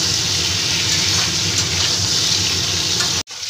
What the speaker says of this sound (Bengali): এবার কেটে রাখা ঝিঙাগুলো আমি দিয়ে দিচ্ছি। এই ঝিঙেগুলো দিয়েও আবার আমি ভালো করে ভেজে নেব।